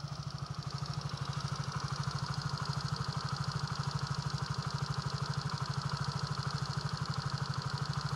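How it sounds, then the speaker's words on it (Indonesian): A 2012 Yamaha Mio J motorcycle engine idles steadily up close, a smooth, even putter with a faint mechanical clatter running unbroken and alone. "kita cek dari dekat untuk kondisi mesinnya ya guys"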